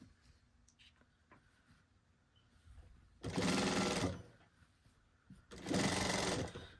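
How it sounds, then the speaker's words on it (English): Sewing machine stitching a trouser seam down to the hem, running in two loud bursts of rapid stitching separated by a quiet pause, with faint handling noise between. "And machine all the way down to the hem"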